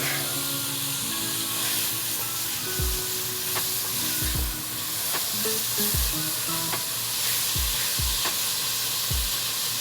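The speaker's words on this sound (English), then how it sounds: "we're going to use the vegetables and the moisture coming out of them to help start deglazing this pan" Vegetables fry at high heat in a heavy pan while deglazing lifts the browned bits for a Bolognese, giving a loud, steady sizzle with repeated scraping and stirring knocks throughout.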